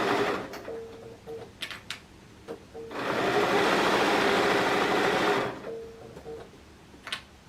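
A sewing machine stitches through several layers of batting while a multi-zip purse is made, giving short start-stop runs of whirring and one sustained fast burst of stitching, close and clear with no talking.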